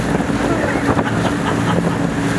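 An amphibious duck tour boat cruising on the water in Seattle, giving a steady loud engine drone with wind and water rush throughout.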